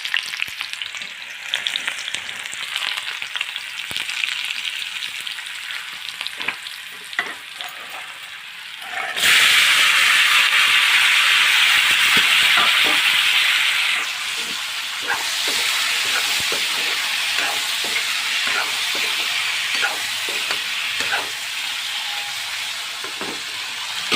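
Oil poured into a hot pan while cooking a hati bhekuri recipe: a steady frying hiss that bursts into a loud, bright sizzle partway through, then settles into continuous close crackling.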